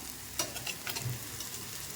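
Broad beans stirred and fried in a pan, a faint, soft sizzle under a few light scrapes and clinks of a spoon against the pan.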